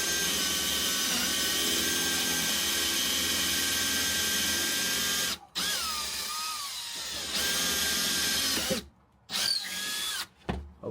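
A Milwaukee M12 FUEL 2505-22 installation drill runs loud and steady for about five seconds, then bores in shorter bursts with brief pauses and pitch shifts as the bit works through material.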